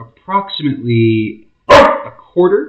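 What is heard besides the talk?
dog barking in the kitchen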